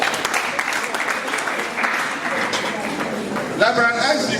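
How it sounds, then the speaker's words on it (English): Applause from a conference audience at a polytechnic international event, a steady wash of clapping with a voice speaking over it and some louder, sharper claps near the end. "A hand of applause for that."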